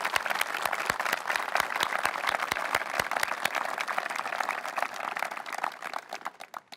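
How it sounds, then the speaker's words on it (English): Sustained applause from an outdoor crowd at the opening ceremony of the California Central Coast Veterans Cemetery, with dense, steady clapping that thins out toward the end. "Please give them, everybody, a round of applause."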